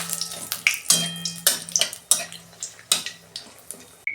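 Whole spices (bay leaves, cinnamon, cardamom, cloves, dried red chillies) frying in oil as tempering for a mutton curry, with repeated sharp clinks and scrapes of a utensil against the pot over a steady close sizzle.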